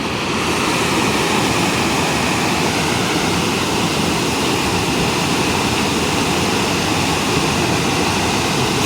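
Water surging hard through the Massanjore dam in Jharkhand, a loud, steady roar of rushing torrent that fills the whole stretch without a break.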